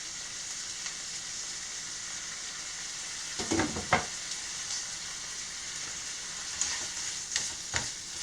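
Bacon sizzles and crackles steadily in a frying pan while an omelet is being made, loud and close, with a few utensil clinks and scrapes against the pan and no talking.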